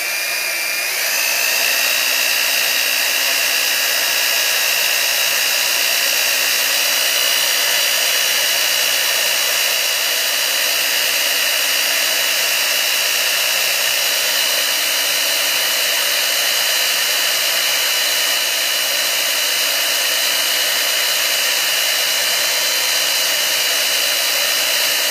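Power drill boring a hole for safety wire, a continuous high-pitched whine held steady and loud for the whole stretch with no talk.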